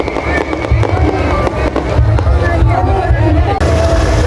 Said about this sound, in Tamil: பாருங்க வான வெடிக்க வேணுன்றது